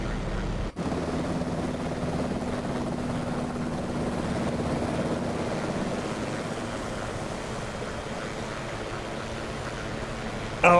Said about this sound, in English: I thought I heard another helicopter nearby.